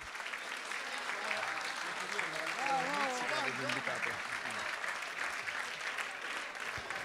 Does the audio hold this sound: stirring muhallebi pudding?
no